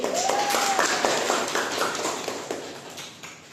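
A classroom gives a group of students a round of applause, with many quick, dense claps that start loud and gradually thin out and fade over a few seconds.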